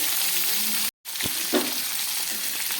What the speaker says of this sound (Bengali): কপি আলুটা হালকা করে ভেজে নিলাম